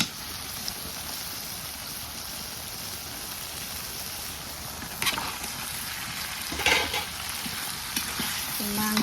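Food fries in a pan and is stirred and mixed, giving a continuous soft sizzle with occasional scraping and clattering strokes, close and without talk.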